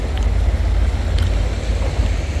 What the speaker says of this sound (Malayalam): ഇപ്പോഴും വെള്ളത്തിന് ഭയങ്കര ശക്തമായിട്ട് ഒഴുക്കാണ്